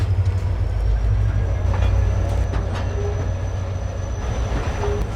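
The Tezgam passenger train pulls out of Rohri Junction with a loud, steady low rumble of wheels and carriages, a faint high whine running over it and no talking.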